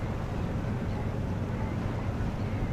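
Steady wind blowing over open water near Terschelling at ebb tide, a constant low rushing roar with buffeting on the microphone, boats in the channel, no voices.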